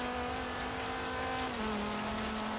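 An off-road car in Forza Horizon 3 drives with a steady, loud engine drone that holds one pitch and then steps down slightly as it shifts, with no talk over it.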